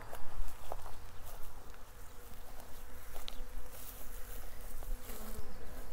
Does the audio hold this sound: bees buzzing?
yes